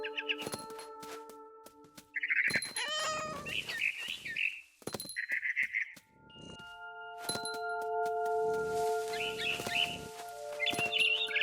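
A cat meows several times amid chirping bird calls and tonal game-like sounds in the video game What Remains of Edith Finch, the meows short and clear against a quiet background.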